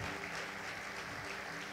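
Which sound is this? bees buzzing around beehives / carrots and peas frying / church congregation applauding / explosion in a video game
church congregation applauding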